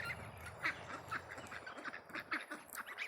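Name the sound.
ducks quacking by the water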